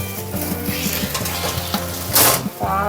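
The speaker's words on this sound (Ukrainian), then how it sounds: "картопля тут смажиться" Steady sizzling of potatoes frying in a pan, loud and close, with a brief burst of stirring or scraping near the end.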